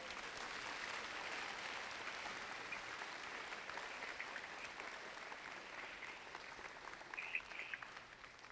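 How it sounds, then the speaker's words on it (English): High school students give a round of applause after an author visit, steady distant clapping from a group with no voices, continuing evenly throughout. "give you a big round of applause for sharing your time"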